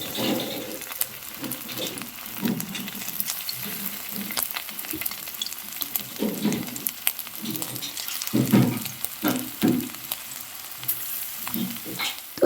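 Chicken frying in white oil in a wok, a close, crackling sizzle with repeated bursts and pops as pieces go in, rising and falling unevenly throughout.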